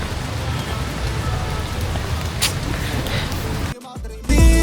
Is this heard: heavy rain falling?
yes